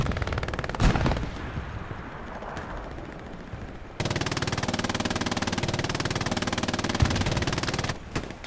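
Machine gun fire in the World War II shooter Hell Let Loose, set among hedgerows, with scattered shots and then a long, steady burst of rapid automatic fire at close range that cuts off near the end.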